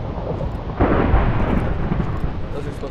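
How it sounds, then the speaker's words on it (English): Video game thunderstorm marking the start of a night storm in a solar apocalypse survival game: a steady broad rumble of rain and wind swells into a loud thunder crash that rolls on without fading. "This is supposed to be the night storms, which come out and represent that the apocalypse has started."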